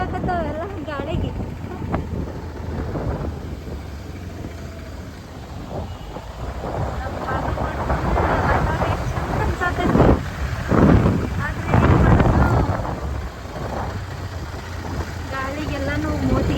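Strong wind gusts roar across a road, buffeting the microphone in heavy rumbling waves that swell and fade, with someone talking over the blustery noise.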